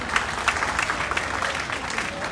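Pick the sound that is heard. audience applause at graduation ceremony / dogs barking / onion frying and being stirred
audience applause at graduation ceremony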